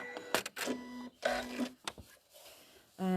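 A sewing machine stitches along a fabric edge for a collage in short mechanical bursts, whirring in quick stops and starts with brief pauses, close and moderately loud.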